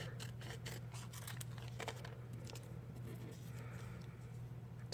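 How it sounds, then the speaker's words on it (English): Scissors snip through a small piece of Heat and Bond Light fusible backing in a run of quick, close, light cuts over a low steady hum. "I'm just going to cut out a little piece."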